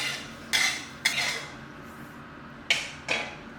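Fresh red and dried jinda chilies are dry-roasted in a pan, with four sharp scraping clinks of a utensil against the pan over a quiet background.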